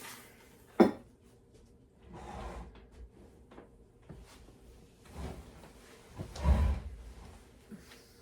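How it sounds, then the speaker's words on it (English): A sheet pan pulled from a kitchen drawer, with a sharp metal clank followed by softer sliding and rattling sounds, a few scattered knocks spaced out and fairly quiet. "Get my sheet pan here."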